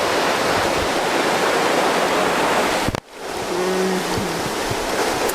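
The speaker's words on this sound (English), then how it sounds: "But I wanted to show you guys this river. Hopi. Beautiful, beautiful creek." A creek in Alaska runs steadily, with a loud, close, continuous rush of water. The flow breaks off for a moment near the middle and then picks straight back up.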